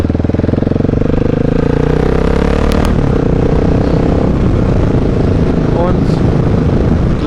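A Husqvarna 701 motorcycle fitted with a Mivv exhaust roars close and loud, its single-cylinder engine revving hard with a deep pulsing rumble that holds steady throughout.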